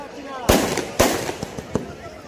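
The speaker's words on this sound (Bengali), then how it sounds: "অসাধারণ ধন্যবাদ জানাচ্ছি অসাধারণ বাজি প্রদর্শন করার জন্য" Fireworks display bursting outdoors, with two strong sharp bangs followed by several lighter crackling pops, sounding fairly close, along with faint background voices.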